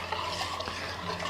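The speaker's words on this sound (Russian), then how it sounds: "Размешаем" Heaped spoonfuls of salt stirred into water in a cooking pot, a close, steady swirling and faint scraping that runs continuously through the short moment.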